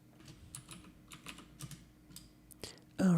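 Fingers type a username on a computer keyboard during an Ubuntu Linux setup on Windows, a quick, uneven run of close, crisp key clicks ending in a louder thump.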